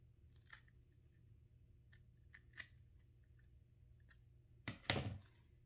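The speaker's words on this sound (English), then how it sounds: "I'm just gonna cut with my scissors." Scissors trim excess material from a handmade Pokémon craft wallet, giving a few quiet, sparse snips followed by a louder, closer cluster of cuts near the end over a low background hum.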